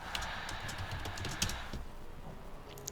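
Typing on a computer keyboard while writing web page code, quick light key clicks in a short burst, close and fairly faint, trailing off toward the end.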